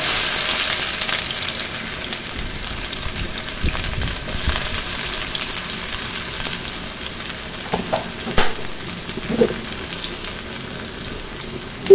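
Chopped onions frying in rice bran oil make a soft, continuous crackling sizzle, fairly close. Occasional light clinks and stirring scrapes come near the end, with no talking.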